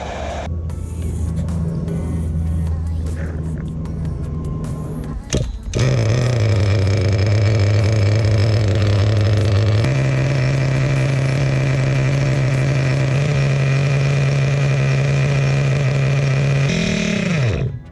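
A Kyosho Inferno nitro RC car engine runs during break-in, starting with a brief sputter and then settling into a loud, close, steady high-pitched drone that holds for several seconds, shifts pitch once midway, and cuts off near the end.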